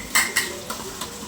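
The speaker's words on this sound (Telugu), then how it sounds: "గిన్నెలు క్లీన్ చేసుకుంటే" Dishes are washed at home as part of the morning chores, giving several sharp metallic clinks and clatters of pots and utensils at close range, spaced a fraction of a second apart.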